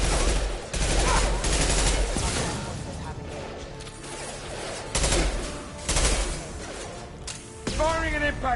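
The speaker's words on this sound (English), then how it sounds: "Firing an impact shot" Mass Effect 2 combat: heavy gunfire bursts, an impact shot and crashing hits come loud and close, with voices talking and shouting between the blasts.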